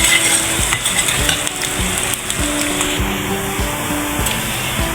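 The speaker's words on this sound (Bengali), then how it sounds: "পেঁয়াজগুলো এরকম করে ভেজে নিতে হবে" Onions frying in a pan for a village-style small-fish mash, giving a loud, continuous close sizzle with frequent knocks and scrapes of a spatula stirring them.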